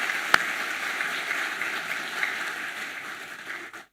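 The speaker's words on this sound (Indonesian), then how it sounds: "Mari kita berikan aplaus apresiasi." A church congregation applauds its elders at an installation service, a steady, moderately loud patter of many clapping hands with one sharp nearby clap near the start, sustained for several seconds before fading and cutting off.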